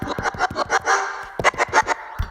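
GarageBand library dog bark sample: a rapid series of short, sharp bark-like bursts in two clusters with a brief gap between, fairly close and moderately loud, ending with one final hit.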